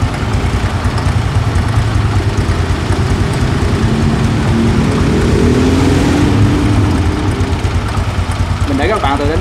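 A used Honda Future motorbike idles at close range, its engine a steady, rumbling low-pitched putter that stays even and unbroken throughout.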